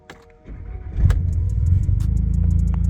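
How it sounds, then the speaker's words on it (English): A Volkswagen GTI engine cranks and catches, then settles into a steady close idle with a faint rhythmic pulse, no voices. "This is me basically just starting up the car."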